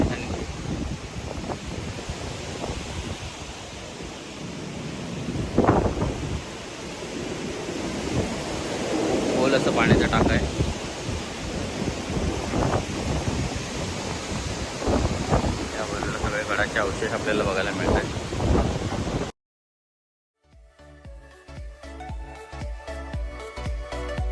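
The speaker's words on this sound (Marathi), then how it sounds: "वारा इतका जास्त आहे की हे रचलेले दगडी अवशेषही" Strong, gusty wind buffets the microphone atop a hill fort, roaring loud and steady with swells for about twenty seconds, mixed with faint voices, then cuts to a brief stretch of unrelated music.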